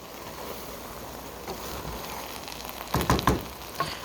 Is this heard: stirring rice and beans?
yes